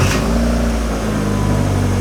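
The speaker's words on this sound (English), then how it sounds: "Engine sounds great, so that's all starting and running as well" Mazda MX-5 Miata race-car build with an automatic gearbox, its engine running steadily after starting in park with the handbrake on, a close, loud, even low hum that holds throughout.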